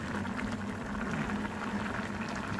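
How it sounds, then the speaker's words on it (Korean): Ramen and stew bubbling together in pots on a stove, a steady close rolling boil with dense gurgling and popping that carries on without a break. "바글바글 찌개 끓는 소리 라면 끓는 소리"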